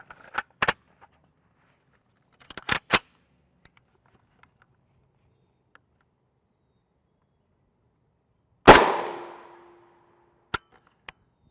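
Single sharp gunshot from an FN SS190 armor-piercing round striking a UHMWPE NIJ Level IIIA helmet, a loud crack with a brief ringing decay, preceded by scattered faint clicks and handling taps.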